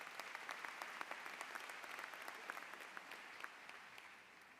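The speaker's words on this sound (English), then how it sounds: "So give yourselves another round of applause." Law school graduates at a commencement ceremony give themselves a sustained round of applause, dense and even, heard from a distance in a large hall.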